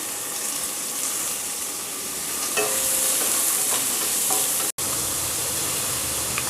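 Cinnamon, cloves, bay leaf and onion fry in hot oil in a kadai, a steady bright sizzle with a few stirring scrapes and clinks partway through, close and continuous without talk.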